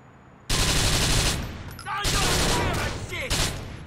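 Rapid bursts of automatic gunfire from the video game GTA IV crackle loud and close in two long volleys with brief gaps between them.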